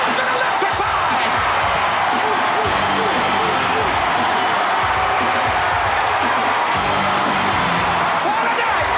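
A packed wrestling arena crowd roars for a newly crowned heavyweight champion, a loud, sustained wall of cheering and whoops that stays dense throughout, with a commentator's voice running over it.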